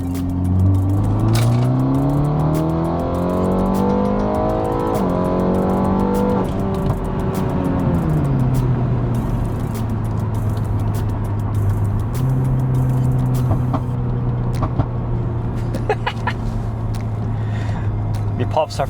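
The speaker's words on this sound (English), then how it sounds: "It's actually really hard to create pops on these cars, so we managed to do that on our car" BMW G20 330e with open exhaust valves, the engine droning and rising and falling through gears with a sharp crackle of small exhaust pops, close and loud throughout, under a person talking.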